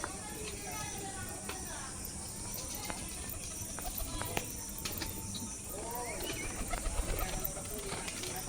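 Pigeons coo softly over a steady hiss, with scattered brief flutters and clicks that sound like wings, and faint talk beneath.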